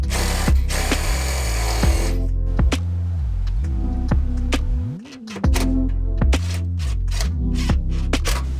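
A power drill drives self-tapping screws into a 2021 Ford Transit van while mounting a remote fill kit for an undermount propane tank, giving loud close bursts of whirring with short pauses and sharp ticks between runs.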